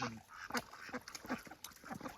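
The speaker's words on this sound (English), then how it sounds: "ducks are being ridiculous over here." Several ducks near water give quick, nasal quacks in uneven clusters, some overlapping, at moderate distance above a soft outdoor background.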